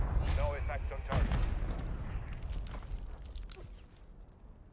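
Artillery fire mission in the Call of Duty MW3 video game: heavy, rumbling booms and blasts roll in close and loud, fading into a lingering low rumble, with shouted in-game radio voices over the start.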